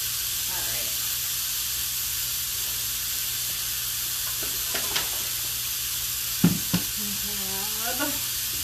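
Skirt steak fajitas sizzle steadily in a hot skillet, a constant hiss running throughout with a few brief clinks and faint sounds of handling near the end.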